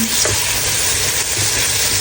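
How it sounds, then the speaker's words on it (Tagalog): Steady, dense sizzling and crackling of salted chicken frying in hot oil, loud and continuous with faint bubbling underneath. "Ayan na nga, na-prito na."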